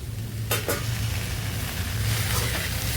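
Okra sizzles steadily in a hot pan with tomato, with a couple of quick stirring scrapes near the start; no talking.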